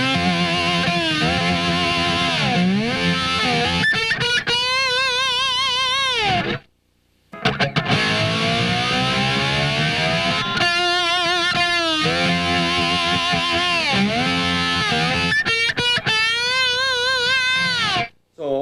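A distorted electric guitar plays a metal riff full of bent notes and sliding pitches, loud and sustained, with two brief pauses of silence between phrases.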